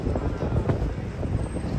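Gusty wind sweeps along a Manhattan street, a steady broadband rush and rumble buffeting the microphone throughout, with brief swells but no voices.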